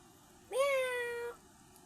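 One kitten gives a single clear, rising meow lasting under a second, close and fairly loud against a quiet room.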